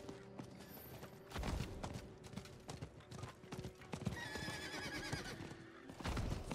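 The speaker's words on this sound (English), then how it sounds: "On your horse with the bros." A horse in a video game trots with steady clip-clopping hooves and lets out whinnying neighs, fairly close and clear, with no talk over it.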